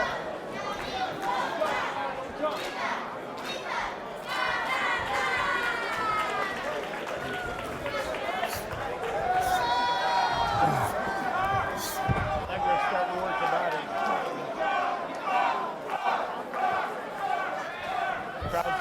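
A crowd at an amateur Golden Gloves boxing bout in Chicago, a master open heavyweight match, builds into a loud, lively roar of cheers and chatter, with a commentator talking over it.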